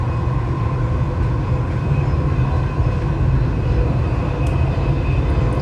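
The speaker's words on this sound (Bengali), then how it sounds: "The final destination of this train is Center Point." A Dubai Metro train running between stations, heard from inside the car: a steady, loud low rumble with continuous rolling wheel noise and a faint high whine throughout.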